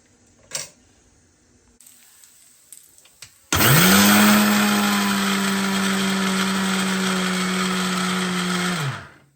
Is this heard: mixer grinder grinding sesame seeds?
yes